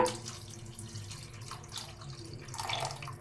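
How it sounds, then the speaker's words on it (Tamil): A tumbler of water pours into a cooking pot of tamarind kuzhambu, with a steady close splashing that swells slightly louder near the end. "கொஞ்சம் தண்ணி சேர்த்துக்கலாம் இதில்"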